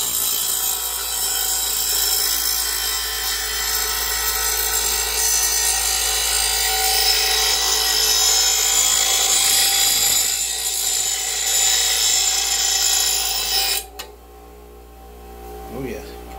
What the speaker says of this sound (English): This is my first time sharpening blades.